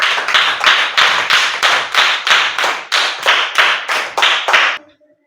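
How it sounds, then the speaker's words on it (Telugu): A group claps in a steady rhythm, about a dozen sharp beats, loud and close, then the clapping stops abruptly near the end. "క్లాప్స్"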